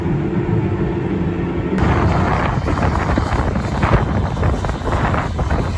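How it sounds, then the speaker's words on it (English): Steady, loud wind buffeting a microphone outdoors on farmland during seed drilling with a Case Quadtrac 620 and Vaderstad drill, a continuous rushing roar that grows rougher after the first couple of seconds, with no voices. "It's a bit windy here today."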